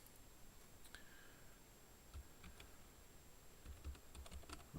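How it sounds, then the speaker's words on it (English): Someone types quietly on a computer keyboard during a nighttime deep-sky livestream, a faint irregular patter of key clicks with a few heavier thumps, no voices. "typing in the dark is kind of tough"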